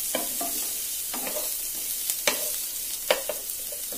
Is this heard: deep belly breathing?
no